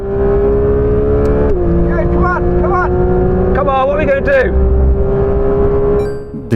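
A Porsche GT3 RS in a racing video game screams at full throttle, loud and close, with a high sustained engine tone that climbs through several quick gear shifts, while a voice talks intermittently over it.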